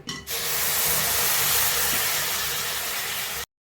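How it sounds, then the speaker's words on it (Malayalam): Coconut milk hits a hot pan of spices for a Kerala chicken curry, bursting into a loud, sustained steamy hiss close by that holds steady for about three seconds before cutting off. "ഇനി നമുക്ക് തേങ്ങാപ്പാൽ ഒഴിച്ചു കൊടുക്കാം."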